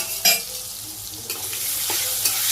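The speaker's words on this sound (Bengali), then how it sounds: "এইভাবে আমি সবগুলো ভাজি, বেগুন ভাজি, মিষ্টি কুমড়ো ভাজি আমি ভাজি করে নিই।" Slices of eggplant and sweet pumpkin frying in hot oil in a village kitchen, a bright continuous sizzle close by, broken by a couple of louder splutters and light utensil scrapes.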